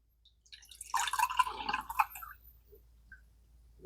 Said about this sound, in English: So I'm going to pour a little now.